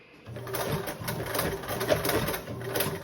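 A sewing machine stitches fabric for a blanket backpack, its needle running in a steady rapid mechanical chatter up close, with a brief pause and restart along the way.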